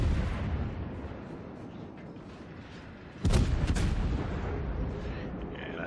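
Warship guns boom in a naval battle game, with the Bismarck nearby: a steady roar of gunfire and explosions, then a heavy salvo blast around the middle, loud and close, with no voice.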